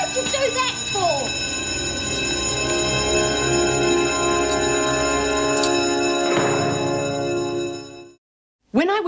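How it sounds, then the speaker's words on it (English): A prison bell rings continuously and loudly for several seconds, then cuts off abruptly, while people speak over it. "Can't you hear the bell?"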